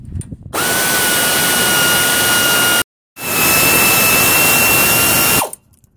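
A power drill or impact tool backs out two 3/8 Allen-head brake caliper slider bolts, giving two loud, steady whirring bursts of about two and a half seconds each with a brief pause between them, close and alone with no talk.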